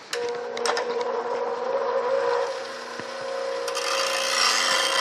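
A dull lathe gouge is ground against a sharpening wheel, giving a steady whirring hum with a gritty rasping edge as the steel is pressed on, close and continuous, with no talk.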